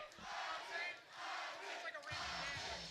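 Crowd noise at a WKS kickboxing bout in New York City, a broad roar of voices and shouting that swells and dips steadily throughout, with a brief lull in the middle before rising again.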